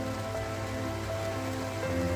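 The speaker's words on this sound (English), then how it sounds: "it is definitely raining" Steady rain pours outside a parked van in Prague, a dense continuous wash of drops drumming on the surface, close and fairly loud throughout with no pauses.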